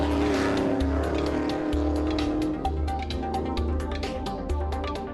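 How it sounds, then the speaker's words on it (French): A Ford Capri rally car drives flat out, its engine note rising and falling through repeated gear changes, loud and close throughout. "Yann Duncan a attaqué au maximum au volant de sa Ford Capri"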